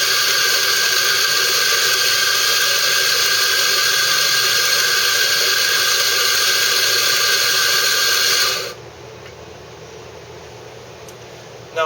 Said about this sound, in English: the grinder will grind a predetermined amount of coffee